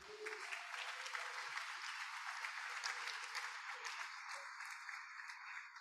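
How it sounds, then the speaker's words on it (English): Applause at a Rotary Club weekly hybrid meeting, a steady patter of many hands clapping for about six seconds, fairly distant and even, with faint murmuring underneath. "And let's clap for them."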